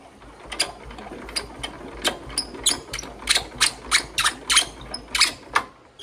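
A Kohler light plant engine is cranked by hand, giving a run of evenly spaced mechanical clacks and ratcheting pulses that speed up slightly, without catching, close and fairly loud.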